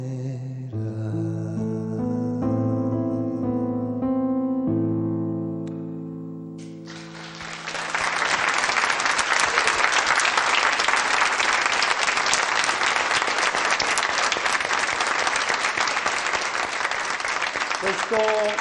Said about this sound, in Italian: Questo momento iniziale, questo lungo applauso è il nostro piccolo pensiero, piccolo omaggio per una grandissima artista